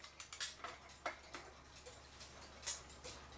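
A Swiss-style German clock with a figure of a man milking a cow ticks steadily and softly nearby, with a light, even mechanical beat over a low background hum.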